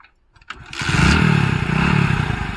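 A motorcycle engine starts after a brief clatter and settles into a loud, steady running rumble close by, with slight fluctuations in revs.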